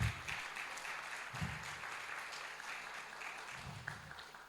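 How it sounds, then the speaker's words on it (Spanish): Church congregation applauding the Lord during a Spanish-language service, a soft, distant wash of clapping that holds steady throughout, with low thumps rising now and then underneath. "Dale un aplauso al Señor."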